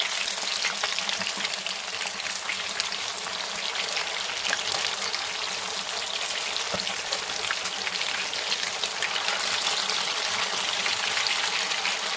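Fish pieces frying in hot oil, a steady dense crackling sizzle with fine popping that holds evenly throughout, fairly loud and close with no talking.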